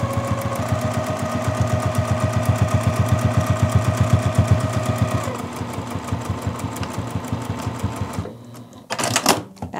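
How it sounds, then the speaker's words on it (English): Sewing machine stitching over a quilt label, a steady rapid needle rhythm that runs loud and close, briefly slows partway, then stops with a couple of short bursts near the end. "And then I can go ahead and just sew right over this."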